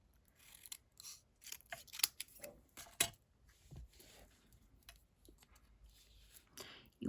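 Scissors snipping through paper card for a layered card craft, with scattered crisp cuts and rustling handling noises, quiet and close.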